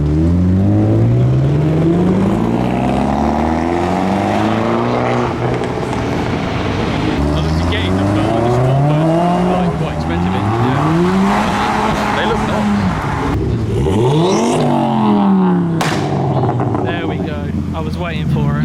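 Modified cars, including a 350 with underglow and a giant wing, accelerate away from a car meet in a steady run of loud revving pulls and tire squeal, with wind noise and voices over it.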